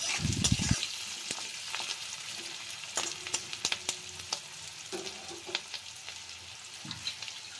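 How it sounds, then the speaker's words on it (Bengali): Onion and garlic frying lightly in a pan for a dish made with watermelon rind, with a steady soft sizzle and scattered crackles plus occasional stirring scrapes, close by. "পেঁয়াজ আর রসুনটাকে একটু হালকা ভেজে নিচ্ছি।"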